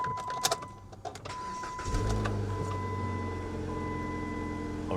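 A rusty used car's engine cranks and catches, then settles into a steady low idle that continues to the end, with some clatter and rustle before it starts.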